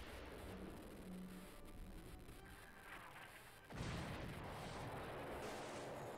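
A torpedo strike in the War in the Pacific naval wargame lands as a sudden deep boom partway through, followed by a loud sustained rumbling roar over continuous battle noise.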